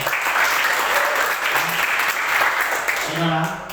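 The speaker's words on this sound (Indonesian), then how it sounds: "Berikan tepuk tangan untuk Tuhan." A church congregation at GKSI Glory To Glories in Batam claps steadily in a dense, sustained round of applause, with voices and a faint musical tone mixed in underneath.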